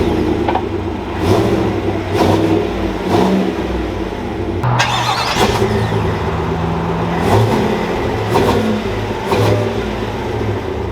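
Exhaust of a 2021 Chevy Suburban and a 2021 Chevy Tahoe revving, a loud close engine note with repeated throttle blips rising and falling over a steady rumble, no talk.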